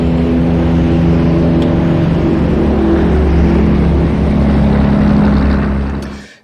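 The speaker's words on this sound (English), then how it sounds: "very heavy on the truck traffic side, like industrial trucks, construction, that kind of thing" A heavy industrial or construction truck rumbles past close by, a loud, deep droning engine roar that holds steady and then fades away at the end, with no voices.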